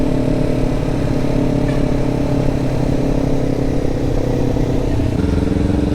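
A Kawasaki Ninja motorcycle with aftermarket white rims rides along the road, its engine droning steadily and fairly close, a continuous mid-pitched hum with no talk over it.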